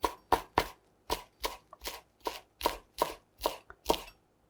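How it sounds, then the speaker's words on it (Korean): Knife finely julienning perilla and lettuce leaves on a cutting board: about a dozen crisp, evenly spaced chops, close and clear against a quiet background. "반 갈라가지고 이렇게 갈라가지고 이렇게 해서 조금 곱게 채 썰어 주도록 할게요"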